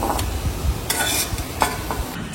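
Fried potatoes stirred in a hot pan: scraping, clattering spoon strokes over a continuous crackling sizzle, close and fairly loud.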